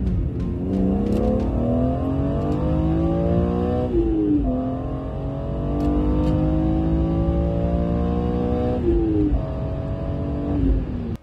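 Porsche engine revving loud and close, with melodious rising and falling pitch sweeps as it climbs through the revs and shifts gears, steady and sustained throughout.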